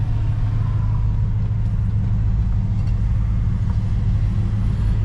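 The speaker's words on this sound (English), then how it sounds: "Sits here at a nice idle." A 1963 Buick Riviera engine idles with a deep, steady low rumble, smooth and unbroken at close range, with no speech.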